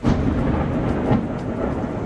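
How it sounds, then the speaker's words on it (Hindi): Thunder rolls in the mountains as a deep, heavy rumble that swells twice, loud and close, with no voices. "कितनी भयंकर आवाज आई अभी बादल गरजने की"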